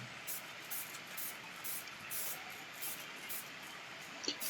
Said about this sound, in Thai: หลังจากนั้นเราก็ใช้ สีสเปรย์พ่น นะครับ